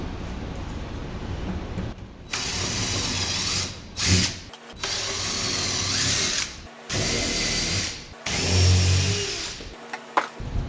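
A power drill bores through wooden blocks in a workshop, the motor whining loudly in several sustained runs separated by brief pauses, with grinding, rattling bursts as the bit bites into the wood.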